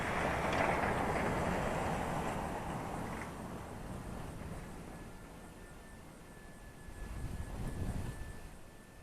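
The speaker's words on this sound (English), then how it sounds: "Such a cool little bush plane." A small Arrows Pioneer micro RC bush plane with 620mm wingspan flies outdoors, its thin electric motor whine steady and moderately distant, fading slightly midway then swelling again as it passes back nearer, with faint wind noise.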